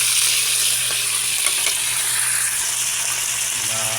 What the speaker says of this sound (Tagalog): Prito na natin.